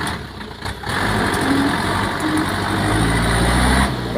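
A freshly overhauled engine idles steadily with a low, even mechanical rumble close by, continuous for a few seconds with no talking.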